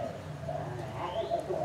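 A spotted dove coos softly over a steady low background hum, a short, muffled call heard from close range.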